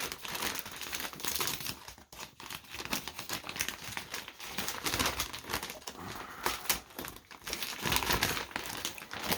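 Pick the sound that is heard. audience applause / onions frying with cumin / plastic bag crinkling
plastic bag crinkling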